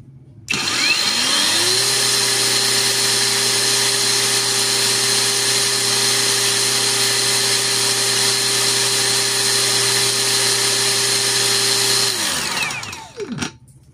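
A Mailtank MK15 brushless cordless grinder spins up and runs steadily at its high-speed cutting mode, a loud, sustained whine with a constant tone for about eleven seconds before winding down at the end.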